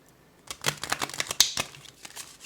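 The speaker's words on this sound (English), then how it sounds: "Some of these are too thick to complete the shuffle" A deck of tarot cards being shuffled, with a rapid run of papery riffling flicks and slaps over about two seconds, close and moderately loud, some cards too thick to complete the shuffle.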